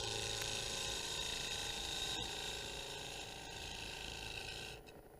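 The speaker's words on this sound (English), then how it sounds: "I'm going to stop the lathe and we're going to look at it." A woodturning lathe spins a multi-axis star workpiece with a steady mechanical whir and faint ticking, then winds down near the end as the motor is switched off.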